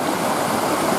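Steady rushing water current of a stream near a beaver dam, with a continuous broadband wash and no breaks over its brief span.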